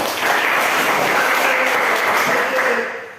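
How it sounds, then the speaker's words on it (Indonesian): Sustained applause from a class of participants after a digital poster presentation in an online open class, a steady dense patter of many hands throughout, fading slightly at the end. "Beri tepuk tangan untuk kita semua"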